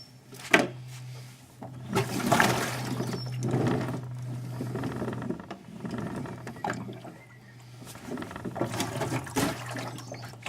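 Water mixed with Milton sterilising fluid sloshes and gurgles inside a WasteMaster waste tank as it is rolled, with irregular surges, knocks and plastic clunks over a low steady hum, close and fairly loud.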